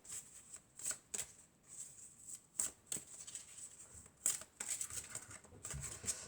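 Tarot cards shuffled and drawn during a French card reading, with a few sharp, crisp snaps and riffles spaced across a quiet background, fairly faint and close.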